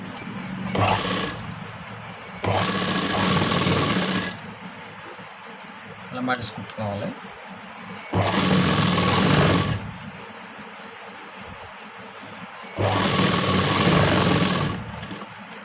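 A sewing machine stitches piping onto a blouse in four loud, close bursts of rapid whirring, with pauses between them where someone talks.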